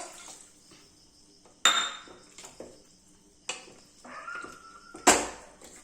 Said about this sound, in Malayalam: വാട്ടർ ഒഴിക്കുവാണ് കുറച്ച് വെള്ളമേ ഒഴിക്കാവൂ